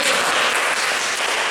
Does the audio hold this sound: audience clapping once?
yes